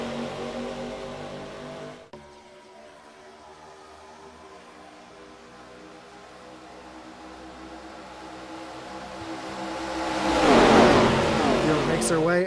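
ARCA Series race cars roar back up to speed on a green-flag restart at Daytona, engine drone building steadily from a low hum to a loud, close surge near the end, with commentary voices over it.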